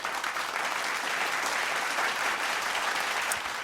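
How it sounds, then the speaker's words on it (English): Round of applause from a group for an IT worker, a dense, continuous clatter of many hands at even loudness throughout, with no talk over it. "let's give a round of applause for the IT guy"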